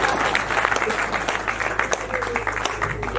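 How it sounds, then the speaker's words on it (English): A crowd at an outdoor vegetable field day claps together, a brief burst of dense, steady applause at moderate loudness with a low hum underneath. "This year, you can clap again."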